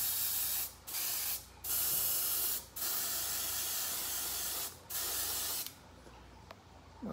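A Neo airbrush with a 0.2 nozzle sprays paint onto an RC car body in five or six short, steady hissing bursts with brief silent gaps between them, close and fairly quiet.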